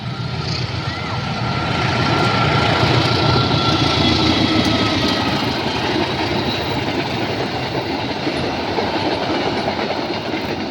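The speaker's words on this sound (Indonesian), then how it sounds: "Oke, ada kereta api dari arah kiri." A passing train in Indonesia, with loud continuous rumble and clickety-clack of railcars on the track, steady and close throughout with a broad wash of wheel and engine noise.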